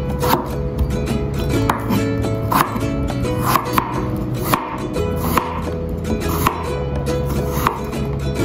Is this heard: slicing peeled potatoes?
yes